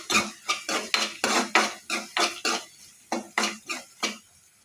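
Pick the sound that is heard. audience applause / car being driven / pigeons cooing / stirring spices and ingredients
stirring spices and ingredients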